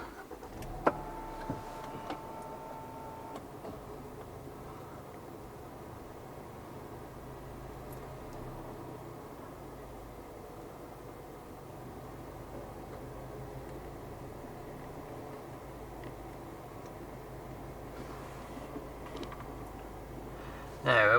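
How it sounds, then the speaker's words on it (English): A Range Rover Evoque engine idles steadily after starting, a low continuous rumble held at an even level from start to finish, with a brief louder burst right at the end. "Start the engine"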